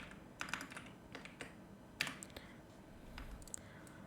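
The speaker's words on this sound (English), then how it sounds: "I'm just going to type directions here." Keys clack on a computer keyboard while directions are typed for a digital product design, in short irregular bursts of close, fairly quiet taps with small pauses between them.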